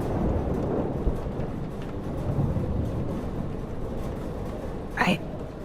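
A thunderstorm with steady rain in the Life is Strange video game: continuous heavy, rumbling rain noise throughout, with a brief rising whoosh near the end.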